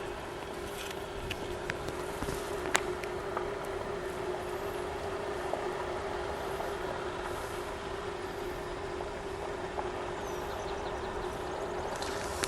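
A 2021 Jeep Wrangler 4xe plug-in hybrid drives off-road at about 10 mph, giving a low, steady, quiet hum with a faint constant tone and occasional light knocks.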